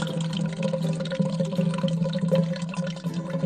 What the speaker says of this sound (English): Pour that in there with the crackers.